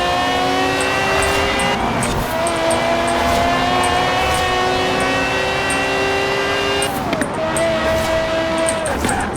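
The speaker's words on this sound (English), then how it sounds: "Beautiful sound. You can hear that F1 engine." A Ferrari F50 racing in Forza Horizon 4 screams through high revs with a harmonic V12-style wail, its pitch climbing and dropping with quick gear shifts, loud and close throughout.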